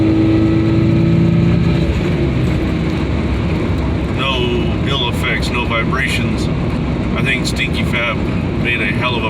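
A Jeep Cherokee XJ cruising at about 45 mph near 1500 RPM, with steady low engine and road drone throughout, a louder harmonic hum early on, and a person talking over it.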